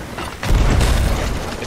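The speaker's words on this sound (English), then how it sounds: "these cannons are really giving me a hard time" Ship cannons fire during a naval battle in Sea of Thieves, a solo sloop fighting galleons; a deep, rumbling boom lands partway through and rolls on heavily to the end.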